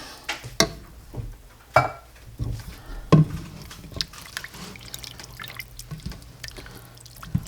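Water from a can poured into a pot of homemade chili, with a few drips and splashes and clinks of pot and utensil, fairly close and irregular, no talking.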